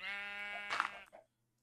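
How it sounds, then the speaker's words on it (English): Sheep bleats in a blocky sandbox survival game, a long quavering bleat followed by a shorter second one, fairly close and clear with no talk over it. "Sheep, you're staying in there, buddy."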